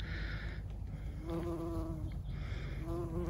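A bumblebee buzzes around lavender flowers in a Vermont lavender field, a steady, close, droning hum that swells and fades as the insect moves between blooms.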